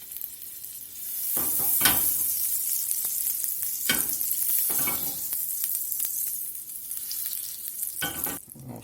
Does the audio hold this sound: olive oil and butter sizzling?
yes